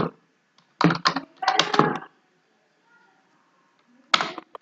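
Quick bursts of key clicks on a computer keyboard while entering text in Excel, two short clusters of typing close by, a pause of near silence, then a final brief flurry of keystrokes.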